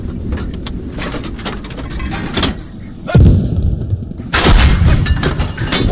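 Tank cannon fire in the combat game Squad: a heavy, close boom cuts through ongoing battlefield rumble, followed about a second later by another loud blast and its rolling echo.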